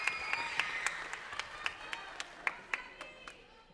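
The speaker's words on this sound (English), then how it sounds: "Round of applause." Applause from an audience at a middle school band concert, sparse and scattered, with individual claps spaced out over a soft crowd murmur.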